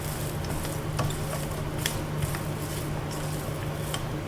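An eggplant stuffing mix sautés in olive oil in a frying pan, giving a steady soft sizzle with a few light stirring taps and scrapes.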